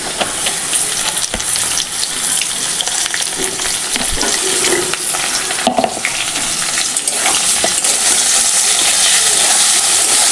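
Chopped onions hiss loudly into a hot pan of oil where potatoes have already browned, a dense, continuous close sizzle with occasional clinks and stirring knocks, and no talk.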